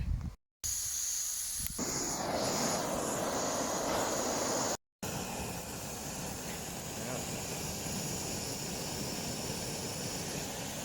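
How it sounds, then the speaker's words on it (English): A small cheap portable gas camping burner with an ignition switch roars steadily at close range, broken by two brief dropouts and a soft hiss at the start. "this little gas burner here I got from Amazon"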